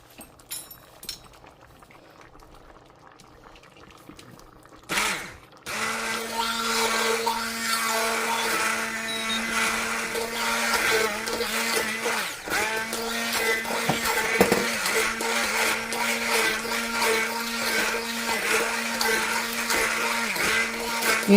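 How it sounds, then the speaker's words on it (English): A blender purees pinto bean soup broth and vegetables with a loud, steady whir that kicks in after a quiet start and runs continuously with slight pitch shifts. "So what it'll do is puree the broth and the vegetables together"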